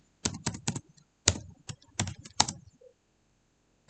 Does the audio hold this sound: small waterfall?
no